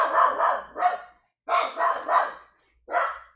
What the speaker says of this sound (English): we got a attack dog here